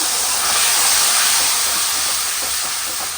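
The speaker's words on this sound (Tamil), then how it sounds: "நல்லா கட்டியாக கரைச்சி வச்சுருக்கேன், புளி தண்ணி சேர்த்துக்கிறேன்." A loud, continuous sizzling hiss as tamarind water is poured into a hot pan, steady throughout and slowly easing toward the end.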